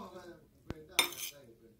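A single sharp utensil knock followed by a brief scraping clink while pancit bihon with calamansi is tossed in a bowl or pan, close and short.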